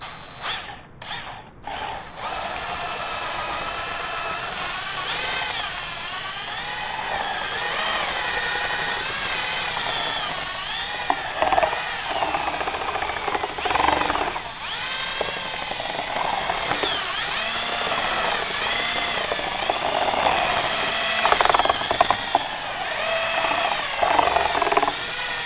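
A power drill with a mixing paddle churns drywall compound in a bucket, its motor whining steadily after a few short starts, with scraping and thumping as the paddle turns.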